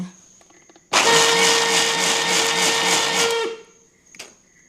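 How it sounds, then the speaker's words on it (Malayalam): Electric mixer grinder blending grated coconut in a home kitchen, a sudden loud whirring roar that runs steadily for about two and a half seconds, then cuts off, followed by a small clatter. "എന്താ മിക്സിയിൽ നൈസായിട്ട് അരച്ചെടുത്തു. തേങ്ങ അരച്ചു."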